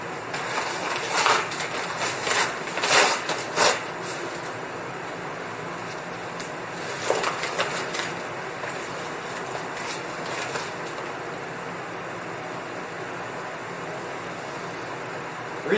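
Dry sand poured and scooped into a bucket resting on a weighing scale, giving gritty hissing pours and brief scraping bursts in the first half, then fading to quiet.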